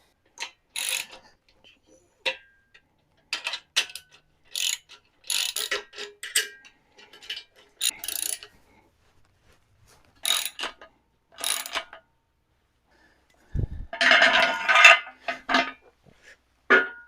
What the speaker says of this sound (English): For assembly, looks like we'll be using a 9/16 socket and wrench